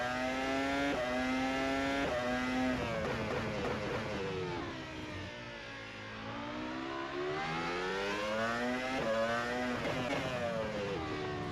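A Formula 1 car at Baku in a racing simulator screams through rising revs with quick upshifts, the engine pitch climbing, dropping and climbing again, loud and continuous with no talk.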